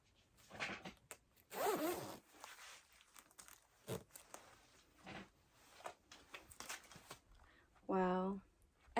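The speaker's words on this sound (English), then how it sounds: "I can still zipper it." A zipper is worked on a small black North Face jacket in a few short, quiet rasping pulls, separated by rustling of fabric and packaging, with someone talking between the pulls.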